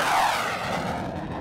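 Steady engine drone inside the cabin of a Robin DR400 light aircraft with a 120-horsepower engine on the ground at Aix-les-Milles airfield, loud and continuous throughout with no talk.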